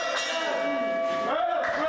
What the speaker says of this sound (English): Opening bell, and here we go